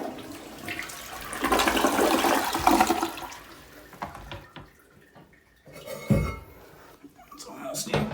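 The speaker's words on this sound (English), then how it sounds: "Drain the tank by flushing it." A toilet tank flushed to empty it while winterizing a cabin, with a loud rushing drain swell that fades over several seconds, followed by quieter trickling and a brief gurgle near the end.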